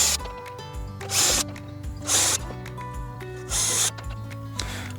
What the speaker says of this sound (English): So let's drill some pilot holes.